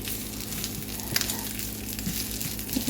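Eggs frying in a pan next to bacon, giving a steady, soft crackling sizzle that runs quietly and continuously, with a few tiny pops.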